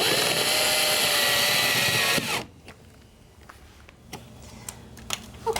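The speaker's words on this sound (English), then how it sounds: "By pre-drilling the holes, it sure makes it a lot easier to get these brass screws into the stud." A power drill drives brass screws into a wall stud while a foot rail is installed, a loud continuous whir for about two seconds that cuts off abruptly, followed by scattered faint clicks and knocks.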